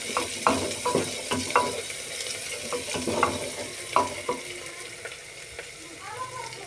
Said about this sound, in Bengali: আদা রসুন কুচিটা দেওয়ার পরে আমি আবারও এটাকে নাড়াচাড়া করব, একটু লাল করে নেব।